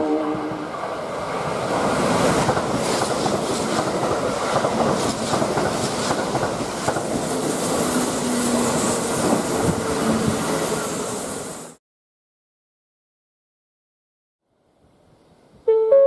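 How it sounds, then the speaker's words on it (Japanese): A Kintetsu limited express train rushes through Murouguchi-Ono Station on the Kintetsu Osaka Line with a loud steady rumble and rattling wheels for several seconds, then abrupt silence before a faint sound returns. "まもなく1番線を電車が通過いたします。 危険ですから黄色い線までお下がりください。"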